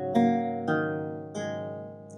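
Theorbo strings plucked one after another from low to high, four clean notes with long ringing sustain, close and fairly soft with no voices.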